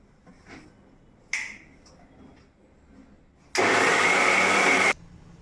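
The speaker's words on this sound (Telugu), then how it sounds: "ఇది కొంచెం మిక్సీ పట్టేద్దాం." A kitchen mixer grinder purées boiled tomato, onion and red chilli with a little salt. After a few small clicks it runs in one loud, steady whirring burst of just over a second, then stops.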